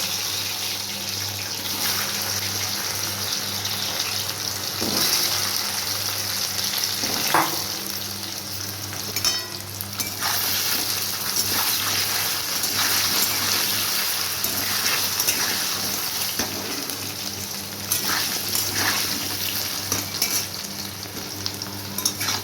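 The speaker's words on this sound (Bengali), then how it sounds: "কচুগুলো ভাজা ভাজা হয়ে গেছে" Taro pieces frying in oil in a pan, a dense continuous sizzle like steady rain with occasional spatula scrapes and pops, close and even over a long stretch, no talking.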